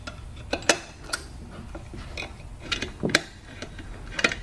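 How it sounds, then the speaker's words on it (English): Large Allen head screws on a trumpet piston valve assembly being worked loose with a long-handled Allen wrench: scattered sharp metallic clicks and ticks, close up, irregular over a few seconds. "Now the two large Allen head screws can be removed."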